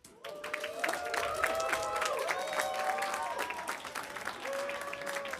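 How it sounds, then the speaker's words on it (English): Applause and cheering from the crowd at a Guilty Gear Strive top 8 fighting game tournament, sustained clapping with scattered voices that holds steady for several seconds. "So if we could please just give a warm round of applause for Ruka."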